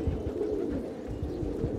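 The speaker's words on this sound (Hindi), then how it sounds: "माशाल्लाह बड़े प्यारे कबूतर" Desi Gola pigeons coo close by in a low, soft, continuous murmur of overlapping calls with no other sounds.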